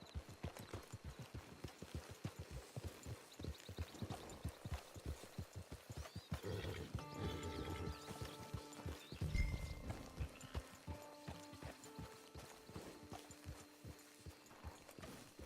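Horse hooves clip-clop at a walking-to-trotting pace in Red Dead Redemption Online, a steady rhythmic run of close hoofbeats with a brief snort, later joined by soft game music.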